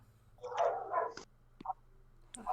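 Dogs inside a house bark in short yappy bursts, two close barks followed by sharper isolated yips and a final bark, with quiet gaps between them.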